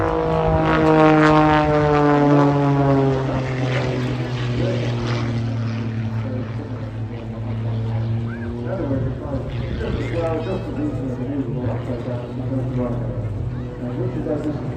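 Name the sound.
aerobatic propeller plane with 180 horsepower engine flying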